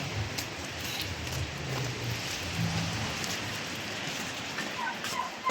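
Steady rain falling, a continuous soft hiss of drops on surfaces with a low rumble underneath, fairly quiet and unbroken throughout.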